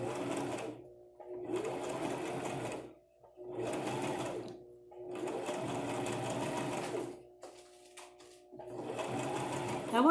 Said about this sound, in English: When I'm sewing, I try to remember to go slowly.